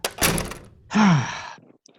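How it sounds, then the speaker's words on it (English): A door being closed in a period office scene in A Christmas Carol: a single solid thunk followed by a brief creaking groan, close and distinct with no talk. "Close the door."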